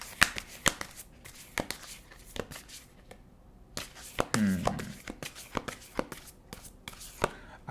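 Oracle cards being shuffled by hand in a quiet room, a steady run of crisp riffling slaps and taps, close and fairly soft, with a brief low rustle partway through.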